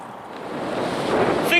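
Wind gusts across an open quarry at Sundon Pit, a loud broadband rush buffeting the microphone and swelling toward the end of this short stretch.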